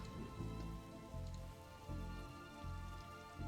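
Rain patters steadily on a surface in the video game The Darkside Detective, a dense continuous hiss of drops with a soft low rumble rising and falling underneath, no speech over it.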